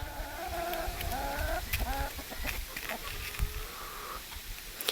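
Chickens clucking and calling softly, several birds close by including a rooster being fed bread, with scattered rustling and background noise throughout.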